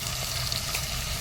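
Onions sizzling in hot oil in a pan for mutton biryani, a steady soft frying hiss throughout, close and moderately quiet with no talk.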